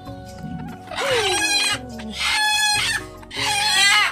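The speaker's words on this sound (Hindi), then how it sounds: "तो पहले इसको मुर्गी को पकड़ते हैं।" Loud, harsh squawking and strained clucks from a chicken as it is grabbed during a rainy monsoon evening, three long distressed cries separated by brief gaps, close to the microphone, with no talking over them.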